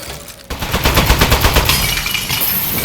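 A turret firing in the Aperture Desk Job video game, a loud close burst of rapid automatic gunfire rattling for about two seconds before trailing into a noisy wash.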